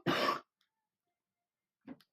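A single close, loud cough bursts out at the start, followed by a long silence and then a short, fainter throat sound near the end.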